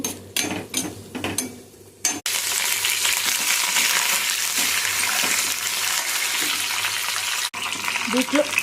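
Red chillies and curry leaves are frying in hot oil, with a loud, continuous sizzle close by after a few seconds of clinking and stirring.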